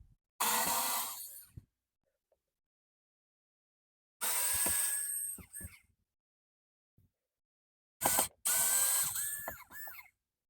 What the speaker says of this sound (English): when you're removing those 4 screws, make sure you don't let them drop in there